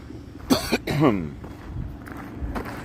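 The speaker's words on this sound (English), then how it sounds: "Still coughing up phlegm." A few harsh, wet coughs up close, two quick bursts followed by a longer throaty one, then quieter breathing and rustling.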